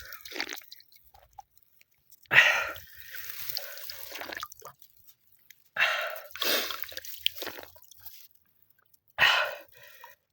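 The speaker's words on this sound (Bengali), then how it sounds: "তো একটু পানি খাই।" A thirsty man drinks water out in a rice field under the sun, with three separate bursts of gulping and slurping, each followed by short breaths and quiet pauses.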